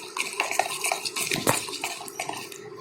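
Anda paratha ingredients being mixed in a bowl, with clinking and scraping of a utensil against the dish in an irregular, close stirring rhythm, no talk.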